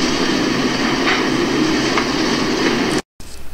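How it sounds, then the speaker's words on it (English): A locomotive pulls into the new locomotive track at West Mill yard with a steady, loud rolling rumble and faint wheel clicks, cut by a brief dropout near the end. "And pulling into the new locomotive track."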